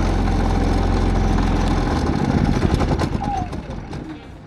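A Predator 3500 inverter generator runs with a loud, steady low engine drone that eases and drops after a couple of seconds into a lighter, quieter hum, with a voice talking over it.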